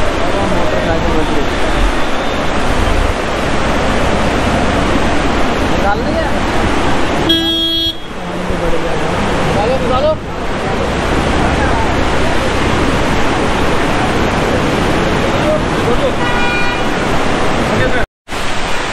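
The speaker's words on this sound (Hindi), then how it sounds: "बहुत ज़्यादा स्पीड में पानी बह रहा है" Monsoon floodwater rushing fast across a blocked road on the way from Delhi to Nainital, a loud, continuous roar of churning water close by, with a brief car horn and people talking over it.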